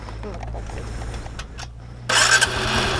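Background chatter and a low idle give way to a motorcycle engine cranking and catching, then a steady running rumble.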